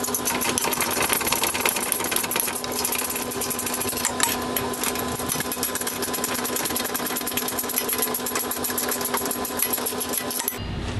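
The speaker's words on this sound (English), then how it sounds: "it's time to get the half inch wrench and start tightening it up" A half inch wrench tightens bolts on a golf cart rear hitch and grab bar, a fast, continuous metallic ratcheting clatter that is close and steady for nearly the whole stretch before stopping abruptly at the end.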